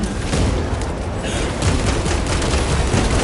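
A grenade goes off amid loud gunfire in Warhammer 40,000: Space Marine 2, with a dense, sustained roar of blasts and rapid shots close up and no pause across the few seconds.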